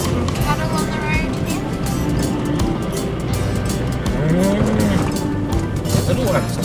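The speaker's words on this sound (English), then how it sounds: "Got some cattle on the road" Cattle on an outback road in Australia, with a cow mooing briefly partway through over the steady rumble of a vehicle driving, with people talking close by.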